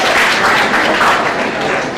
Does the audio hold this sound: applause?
yes